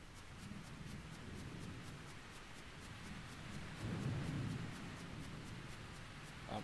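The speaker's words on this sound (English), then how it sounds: "we're going along the path in the rain here." Steady rain hisses throughout a stormy golf course path in Mario Golf Super Rush, with a low rumble of thunder swelling briefly in the middle before fading back into the downpour.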